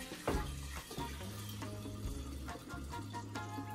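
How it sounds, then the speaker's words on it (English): Sangria mixture of fruit, vodka and wine pours into a pitcher outdoors at a campsite, a faint, steady splashing and gurgling flow with small clinks. "So take all of your mixture and you pour it into your pitcher."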